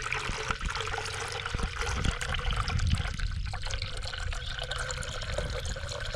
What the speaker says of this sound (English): so I'll be adding more water